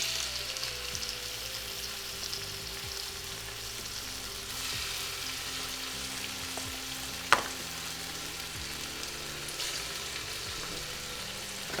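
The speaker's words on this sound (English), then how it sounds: "That is the sizzle you wanna hear." Chicken cutlets sizzle steadily in a hot Ninja Possible Cooker, a continuous close frying hiss with small pops and a sharp clink partway through, no voices.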